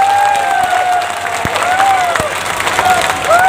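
Applause and cheering from a crowd at an Aam Aadmi Party rally in Rewari, a loud sustained clatter of clapping that rises again at the end, with an amplified voice carrying over it.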